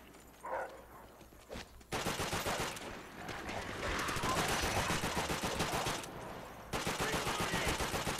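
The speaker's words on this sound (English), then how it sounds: "not the best idea to hip fire this gun" Long, dense automatic bursts from a drum-fed gun fired from the hip in the video game Call of Duty: World at War rattle loud and close, broken by short pauses before the firing resumes.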